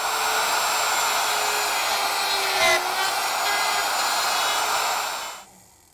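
A router cutting dovetail tails in a half-inch board held vertically in a jig with a backer block: a loud, steady high-pitched whine that holds constant, then winds down and stops near the end.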